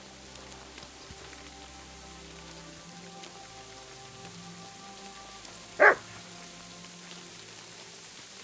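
In Kingdom Come: Deliverance 2, a single dog bark cuts through steady rain pattering on surfaces, with a low ambient drone beneath it.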